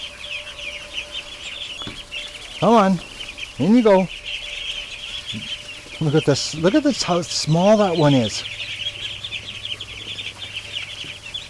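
Ducks are herded into the back, quacking in several loud, separate bursts close by, while someone talks to them between the calls.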